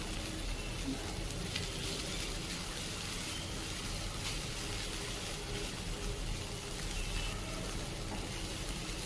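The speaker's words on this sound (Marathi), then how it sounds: "अशा पद्धतीने 1 मिनिट छान असं हे परतलं गेलंय" Pumpkin barfi mixture sautés in a pan on a home stove, giving a steady, faint sizzle and soft hiss that continues evenly without pause.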